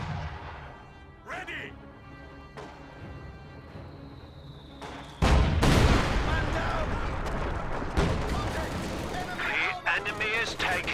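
Mortar rounds and gunfire boom and crackle in a real-time strategy battle, scattered blasts and rattling volleys building into a denser barrage, with game voice lines and a commentator talking over them.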